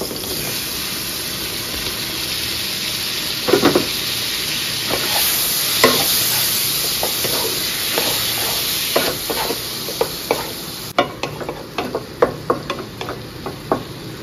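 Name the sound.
tomatoes and green chilies frying and being stirred in a pan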